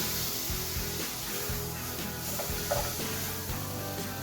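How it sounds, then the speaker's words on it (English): Chopped onions fry in a pan with a steady sizzle, broken by repeated scraping and stirring strokes, close and fairly loud, with no voices. "you guys can see my onions are still frying."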